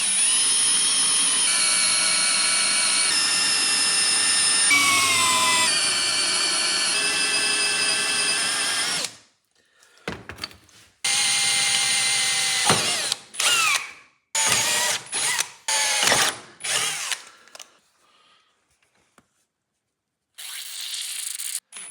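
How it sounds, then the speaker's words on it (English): Power drill boring 4mm holes for 5mm threads in a car interior being prepped for seats, steering wheel and dashboard, a steady high whine for several seconds followed by short on-off bursts with pauses between. "drilling holes, 4mm drill size for a 5mm tab"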